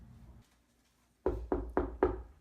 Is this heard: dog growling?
no